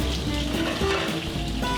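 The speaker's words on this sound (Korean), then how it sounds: "기름 튀는 소리가 요란한 주방에서" Oil sizzling loudly as potatoes, onions and peppers fry for a traditional dish in a restaurant kitchen in a mountain village in southern Spain, a continuous crackling hiss with kitchen background noise.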